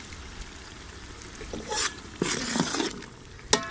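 Chicken mixed with yogurt frying in a pot for yakhni pulao, a quiet soft sizzle with a few louder bursts as the pieces are stirred and shifted, ending in a sharp clack.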